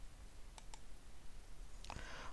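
Two crisp computer mouse clicks in quick succession while setting page margins in Microsoft Word 365, close and dry against quiet room hiss, followed a moment later by a brief brighter rustle.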